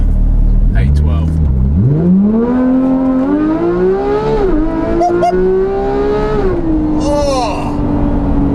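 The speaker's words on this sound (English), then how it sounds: "I have never driven a car that has that high-end scream" A Porsche engine that revs to 9,000 rpm climbs at full throttle into a rising high-pitched scream, drops briefly at a shift and then holds a loud, sustained wail close up.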